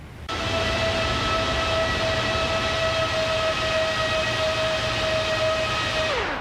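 FlightFactor 777 freighter jet engines in X-Plane, heard from outside the aircraft: a loud, steady roar with a high turbine whine that holds throughout, then drops away at the very end.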